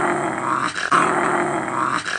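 A small dog wearing sneakers, seen in China, growls steadily with a close, loud, rumbling tone, breaking off briefly once before growling on, with no talking.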